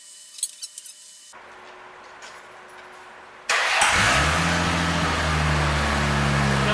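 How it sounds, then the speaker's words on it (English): A New Edge V6 Mustang, straight piped with only the mid pipe, cold starts: a starter whirr, then the engine catches with a loud burst and settles into a raw, rumbling idle, close by. "I actually want to get a cold start straight piped, and I want to see what it sounds like with just the mid pipe"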